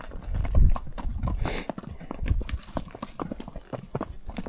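Mule hooves clip-clop unevenly on a rocky cliff-edge trail, loud and close with scuffs and heavy thuds, and faint background sounds alongside.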